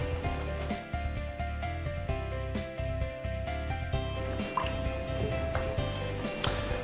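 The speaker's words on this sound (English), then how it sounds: "I'm going to pour a little bit of water in each of these" Water poured from a container into a row of cups for an ORP meter test, a steady liquid fill with scattered drips and light clinks, close and moderately loud with no talk.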